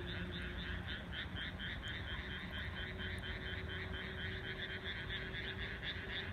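A dense chorus of frogs croaks rhythmically and continuously, loud and nearby, over a low steady rumble.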